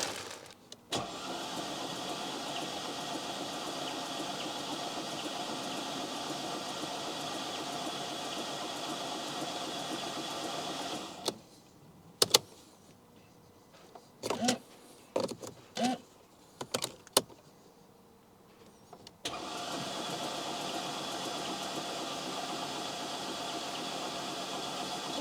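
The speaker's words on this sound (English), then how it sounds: "This car has got a starter lockout, so it will eventually stop turning over." The starter cranks the engine of a flood-damaged Mercedes in two long, steady stretches. Between them comes a quieter gap with a few sharp clicks and knocks.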